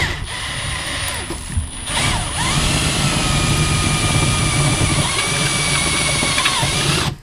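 A step drill bit bores a 5/16 hole into the aluminum skin of an Airstream trailer, a steady whining power-drill grind running near and loud for about seven seconds after a brief start.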